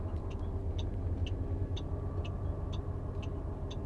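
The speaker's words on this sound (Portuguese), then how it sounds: "Saí de ré aqui." A car reverses out of a roadside parking space in Carambeí, Paraná, Brazil, its engine a steady low rumble with a faint, regular ticking repeating about twice a second throughout.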